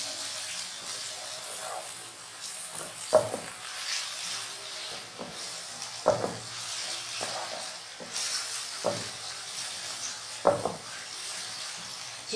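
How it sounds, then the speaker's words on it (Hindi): Ginger garlic paste frying in a pan gives a steady soft sizzle, with a spatula scraping and stirring at regular intervals, close and moderately quiet. "साथ ही हमने इसमें अदरक लहसुन का पेस्ट ऐड करना है, तो थोड़ा सा भूनना है।"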